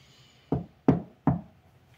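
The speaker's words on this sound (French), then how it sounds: "Il frappe à la lourde porte." Three firm knocks on a heavy door, evenly spaced and resonant, each a sharp thud that fades quickly, heard close in an otherwise quiet room.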